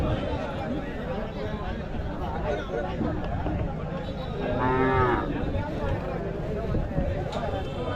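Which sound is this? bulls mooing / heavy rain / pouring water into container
bulls mooing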